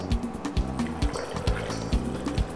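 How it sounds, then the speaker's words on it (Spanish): Water poured into a blender holding mango and sugar, a steady splashing trickle with rhythmic gurgling pulses, close and without talk. "Vamos a agregar la mitad de esta agua."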